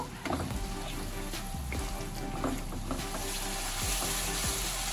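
Spice paste with poppy seed and sour yogurt fries in oil in a pan, a dense continuous sizzle with occasional stirring scrapes, loud and close, with no talking.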